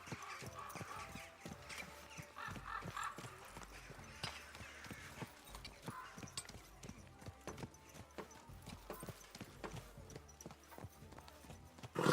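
Horse hooves clip-clop at a steady trot on ground in the medieval role-playing game Kingdom Come: Deliverance II, a continuous run of close, rhythmic footfalls throughout.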